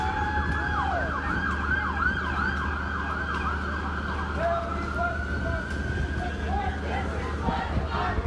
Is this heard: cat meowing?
no